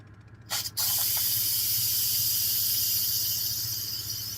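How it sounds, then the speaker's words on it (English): Superheated steam bursts from a pressure cooker of braised Hungarian beef inside a truck sleeper cab, a sudden loud hiss after a couple of clicks, holding steady and close for several seconds over a low hum. "We're going to relieve the pressure."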